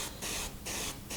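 L'Oréal Colorista 1 day colour spray hissing onto hair in three short bursts, close and steady, separated by brief pauses.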